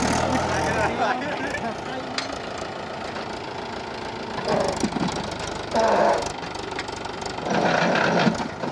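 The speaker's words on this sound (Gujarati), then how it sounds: "આ ટ્રેક્ટર તો ચાલવાનું તૂટી જાય" A tractor engine chugs and idles steadily nearby on a cricket ground being prepared for a night match, its low knocking rumble continuing under people talking.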